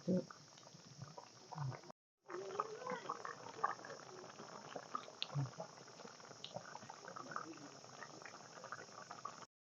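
Rohu fish curry with okra, eggplant and potato bubbles in a pot, a faint, busy simmer of popping bubbles that cuts out briefly after the first two seconds, then resumes.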